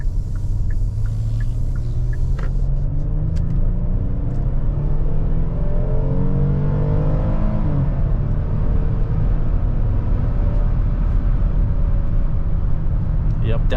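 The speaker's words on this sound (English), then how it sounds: "Let's go ahead and put this SUV in sport mode." A 2023 Hyundai Palisade SUV in sport mode accelerates onto a highway, its engine rising in a long climbing drone over heavy road and wind rumble heard from inside the cabin, with someone talking throughout.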